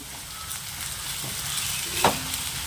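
Onions with peanuts and turmeric frying in a pan for a barley breakfast dish, a steady close sizzle throughout with a brief louder crackle burst near the end and no talking.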